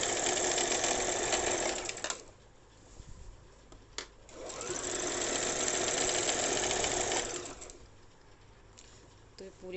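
A sewing machine stitches the middle seam of a salwar in two steady bursts of needle clatter, with a short pause between them and a faint rustle of fabric.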